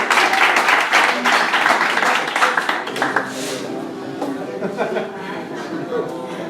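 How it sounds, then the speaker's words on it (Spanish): A church congregation claps for a woman named Márgara during a sermon, loud sustained applause at first that thins and softens into scattered clapping and room murmur. "Un aplauso para mi Márgara."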